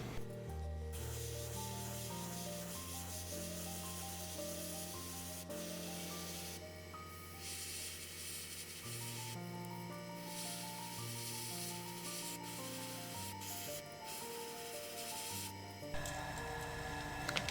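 An airbrush sprays orange paint onto a fishing lure, producing a steady, continuous hiss that runs almost unbroken throughout, with a brief change near the end.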